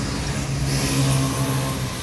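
Noisy motorcycle engines out on a street, a loud droning roar with a brief swell as one seems to pass close by, holding steady across the whole short stretch without speech.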